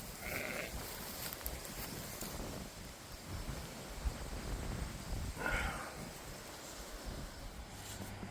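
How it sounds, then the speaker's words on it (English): Sheep, Jacob sheep among them, bleat out in a farm paddock, with two or three distant calls standing out over steady wind and rustling outdoor noise. "There's the Jacobs. There's the rest of the sheep."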